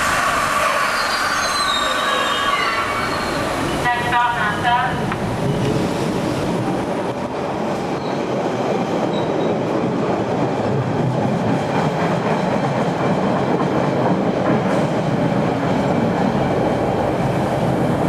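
A Boston subway train on the Oak Grove line pulls into the station, with loud screeching wheel squeals and rumbling, clattering cars filling the platform, close and continuous.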